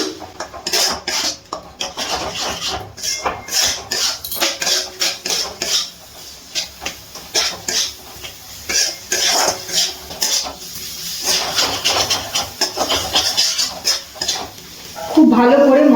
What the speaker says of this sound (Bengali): এবার খুব ভালো করে মশলা মিশিয়ে কষিয়ে নিচ্ছি